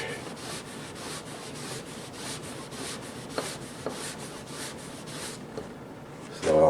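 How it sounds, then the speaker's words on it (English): Rubbing compound worked by hand over a wood finish, a steady run of rhythmic rubbing strokes, close and continuous, ending in a louder scrub. "This is called a rubbing compound. And as you can see, it'll polish."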